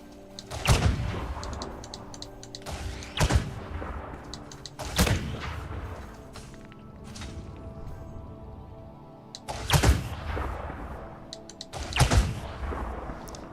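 Surface displacement missiles fire in the space game Elite Dangerous, five heavy booming launches spaced a couple of seconds apart, each a sharp loud blast trailing into a rumbling decay over a low hum.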